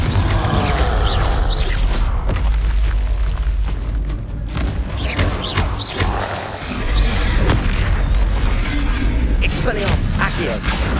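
Confringo blasting-spell explosions from Hogwarts Legacy on PS5 boom repeatedly in dense, loud game combat, with rumbling bursts and crashes layered over constant action noise.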